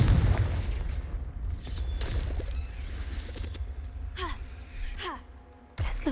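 A Confringo fire spell blast in the game Hogwarts Legacy, a few booming bursts with whooshing tails punctuating a busy backdrop of game ambience and effects.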